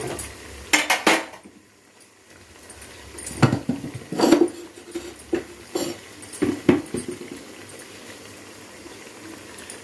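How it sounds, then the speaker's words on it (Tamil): Tomatoes and green chillies are stirred in a pan, with scattered metal scrapes and clanks over a low bubbling sizzle, close and irregular, no talk. "தக்காளி நல்லா கொஞ்சம் வதங்கி வரட்டும்"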